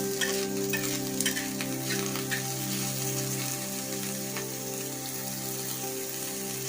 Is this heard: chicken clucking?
no